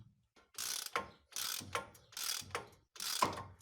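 Four distinct bursts of ratchet wrench clicking, each lasting about half a second, as bolts are tightened to press a wheel bearing into the hub of a Škoda Superb; close, clear and with no talk.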